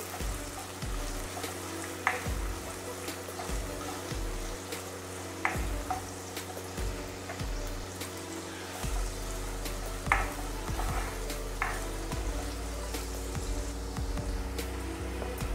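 Vegetables shallow-frying in a pan for Indo-Chinese chicken fried rice, a steady close sizzle with scattered sharper crackles and a few clinks of stirring, with no talk.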